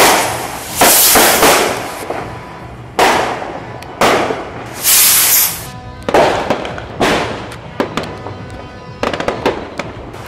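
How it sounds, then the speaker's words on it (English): New Year fireworks and firecrackers in the Philippines bang and crackle in loud repeated bursts, some close and sharp, others rolling, with rapid strings of pops toward the end. "You literally just have to open your windows and it's fireworks."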